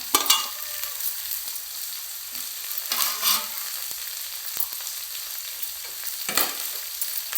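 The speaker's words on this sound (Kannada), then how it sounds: "ಚೆನ್ನಾಗಿ ಫ್ರೈ ಮಾಡ್ಕೊಳ್ಳೋಣ" Mixed vegetables such as carrot and cabbage frying in a pan, with a steady sizzle throughout and occasional scraping stirs, close and moderately loud, no talking.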